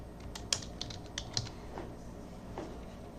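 Typing on a computer keyboard while working in an Excel spreadsheet: a few scattered key clicks, sharper taps around the middle, fairly soft and close, with no talking.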